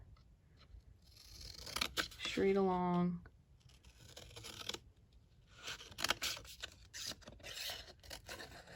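Repeated snipping and rasping of scissors cutting through cardstock paper, close by, with a short spoken phrase in the middle.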